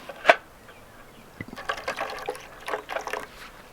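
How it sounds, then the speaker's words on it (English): Water is poured into a canteen cup holding MRE beef stew, giving a sharp splash followed by uneven trickling and gurgling pours that come and go, fairly close and moderately quiet. "Add the rest of our water."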